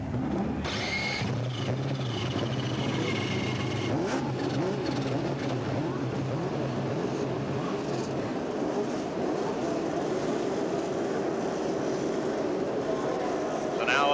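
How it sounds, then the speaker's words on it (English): IndyCar race cars start their engines at the Mid-Ohio Sports Car Course in 1989, building into a continuous low, droning roar along the grid while an announcer talks over it. "Gentlemen, start your engines."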